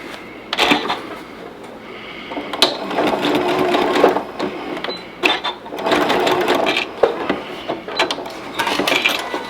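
A sewing machine stitches a seam in several short, loud, mechanical bursts separated by brief pauses.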